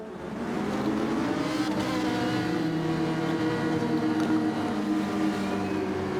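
Several race cars in a racing game at Autopolis roar off the start together in heavy rain, engines revving in a dense, sustained layered drone that holds loud and steady throughout.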